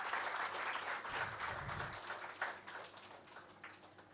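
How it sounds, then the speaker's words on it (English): Quiet audience applause for a guest welcomed to the dais at an Earth Day celebration, soft clapping from a seated crowd that fades gradually, with a low hum underneath. "Please welcome them with a big round of applause."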